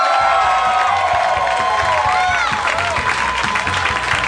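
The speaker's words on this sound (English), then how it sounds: "That was a louder cheer." A live comedy-show audience cheers, whoops and applauds loudly for a returning guest, a dense, continuous roar of clapping and shouting from start to finish.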